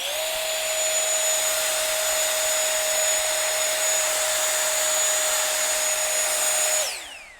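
Tawugame cordless brushless 750W leaf blower running on turbo, a loud steady high-pitched whine and rush of air held for several seconds, then winding down as it switches off.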